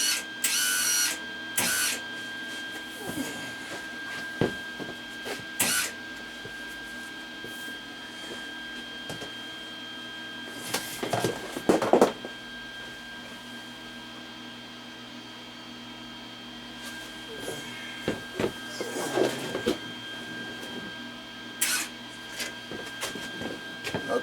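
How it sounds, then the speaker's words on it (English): The wire feed motor of a MIG wire welder whirs in short bursts as it pulls wire off the spool. A steady electrical hum runs underneath, with occasional clicks and handling knocks nearby. "I'm going to depress the trigger and that wire is going to start feeding"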